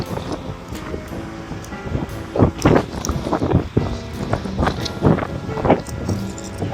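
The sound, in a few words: strong wind blowing on microphone outdoors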